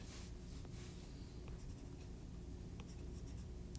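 Steady scratchy writing on a board for a physics lesson, continuous and moderately close with a few brief tapping strokes, no talking over it.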